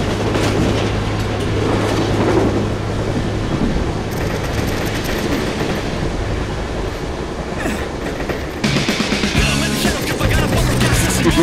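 A moving train in the game Total Overdose rumbles loud and steady throughout, with rhythmic clatter and a heavier, brighter section of noise near the end.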